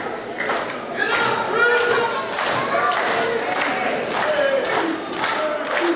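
Wrestling crowd at an indie show cheers and claps steadily, a broad roar with scattered claps and occasional ring thuds, under a commentator's voice throughout.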